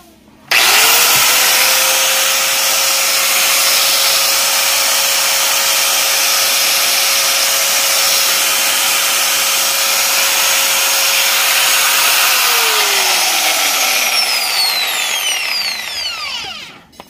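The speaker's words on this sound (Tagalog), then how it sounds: "Power on natin. Testing natin." A Makita 9553B angle grinder, freshly repaired with a new plug, spins up and runs alone at a loud, steady whine for about twelve seconds before the pitch falls away as it winds down.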